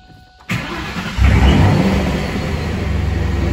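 A car engine fitted with a centrifugal supercharger cranks briefly, then catches and roars to life, settling into a loud, steady idle close by with no talk.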